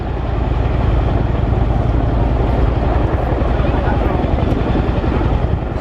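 A military heavy-lift helicopter flies at the RIAT air show with a loud, steady rotor thump and engine roar, while a voice speaks over it.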